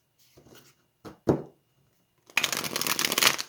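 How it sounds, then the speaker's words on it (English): A few short card riffles and flicks, then a longer, dense burst of an older tarot deck being shuffled close by, loud and crisp. "I thought I'd let you see that the cards can shuffle quite"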